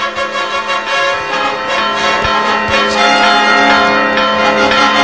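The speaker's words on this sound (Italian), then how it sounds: "Ad accogliere in chiesa la croce un suono di campana." A church bell rings steadily and loudly during a Good Friday Holy Cross procession in honor of Jesus of Nazareth, its sustained tones overlapping continuously with a few sharper strikes.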